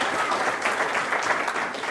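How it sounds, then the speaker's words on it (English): Wedding guests applaud at the close of a marriage ceremony, a warm, continuous wash of clapping from a seated crowd, fairly close and even throughout. "I think a round of applause for that as"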